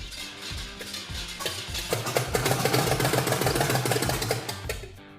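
A Ford Model A engine fires up and runs with a rough, uneven rhythmic chugging that grows steadier and louder midway, then fades slightly near the end, with no talking over it.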